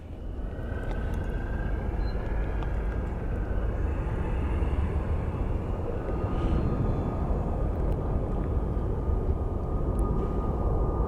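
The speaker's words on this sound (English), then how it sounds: "a lot of taxiing action right now" Continuous low rumble of jet aircraft taxiing at Phoenix Sky Harbor International Airport, a steady, broad engine roar at a moderate distance, unbroken throughout.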